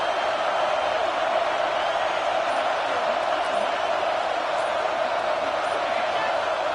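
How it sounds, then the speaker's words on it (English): A packed stadium crowd roars steadily at a college football game between UCLA and USC, a dense, loud, unbroken wall of noise that forces a false start. "with this place rocking, the crowd forces a false start"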